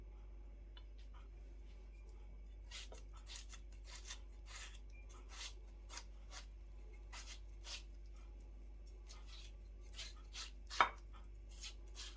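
A knife chops through a nearly ripe mango on a board, a series of sparse, crisp taps at irregular intervals with one sharper, louder strike near the end, heard close against a quiet low hum.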